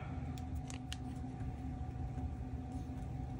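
Scissors snipping paper to trim an image for a spring gluebook collage, a few quick light cuts over a steady low background hum.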